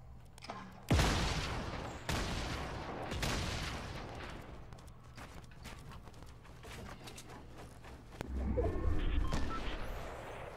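Fortnite Battle Royale gunfire cracks out in a few sharp, loud bursts, with quieter shots and a rumbling stretch between them and no voices over it.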